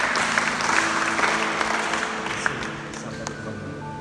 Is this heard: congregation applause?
yes